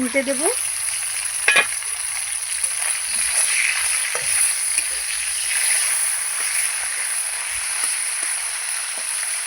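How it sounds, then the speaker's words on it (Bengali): Tengra fish frying in hot oil for a spicy fish curry, a steady close sizzle and crackle that runs the whole time, with a few sharp spatters and a brief utensil clink near the start. "মাছটা আমার ভাজা হয়ে গেছে"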